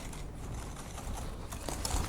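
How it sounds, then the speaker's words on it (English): Six eggs and three cups of sugar are whisked together for a lemon bar filling, giving a fast, close, continuous rattle of metal clicks against the bowl. "I've got 6 eggs, 3 cups of sugar. I'm just going to whisk it all together."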